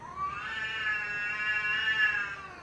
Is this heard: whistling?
no